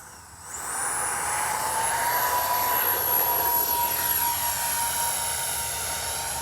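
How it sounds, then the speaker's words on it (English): An X-Fly 40mm F-15 radio-controlled jet takes off, its ducted-fan engine spooling up to a loud, steady high-pitched whine with a rising tone that holds close and strong throughout. "Kind of a rough and tumble takeoff there."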